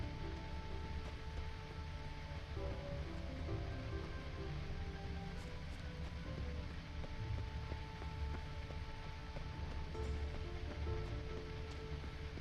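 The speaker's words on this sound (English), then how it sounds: "No use doing any work in this rain." Steady rain falls in The Witcher 3, a soft, even patter of drops on surfaces that stays constant throughout, with faint tonal game ambience underneath and no voices.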